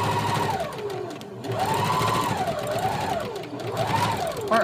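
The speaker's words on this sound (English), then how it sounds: "So you'll start off sewing, do a back stitch, go all the way around each sleeve" A sewing machine stitches around the armhole of a peasant-style dress sleeve, its motor whirring steadily while it speeds up and slows in repeated waves, close and clear, with someone talking over it.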